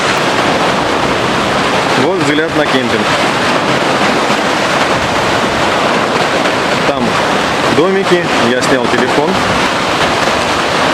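Black Sea waves surge and roll over a shallow shore at Tarkhankut, a constant loud rushing wash of surf and wind with someone talking over it close by.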